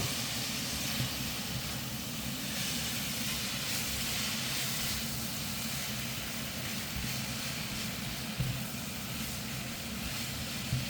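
Broccoli steaming in a covered pan over medium heat gives a steady, even hiss of steam that runs unbroken throughout, with a low rumble beneath and no voices.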